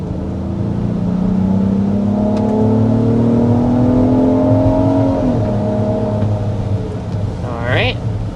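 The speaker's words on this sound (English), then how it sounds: "All right, that's acceleration up to about 60 miles an hour with this MDX." A 2026 Acura MDX Advance under hard acceleration to about 60 mph, heard from the cabin: a steady engine drone rising in pitch through a long pull, with a gear shift near the end and a loud, constant road rumble underneath.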